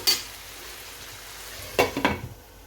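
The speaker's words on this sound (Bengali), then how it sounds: "মাংসটাকে আমি একটু নাড়াচাড়া করে আবার ঢাকা দিয়ে দিচ্ছি" Chicken being stirred in a pan, with a quiet sizzle underneath and a few sharp scraping clinks from the utensil near the start and end.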